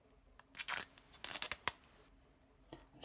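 Scissors snip through the thin plastic foil wrapping a stick of Evo-Stik quick repair putty, giving a few sharp cutting and crinkling sounds close up in a quiet room, with nobody speaking.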